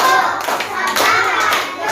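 Children clapping along in rhythm during a classroom clapping chant, a dense run of close, bright hand claps filling the whole stretch, with faint voices mixed in.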